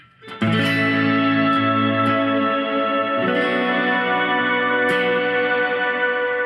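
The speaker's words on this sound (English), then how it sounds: "And you almost get kind of a organ sound." A sustained, organ-like electric guitar tone from an Oceans 11 effects pedal, with a shimmering chorus effect, rings out loud and alone, with a couple of new chords struck along the way.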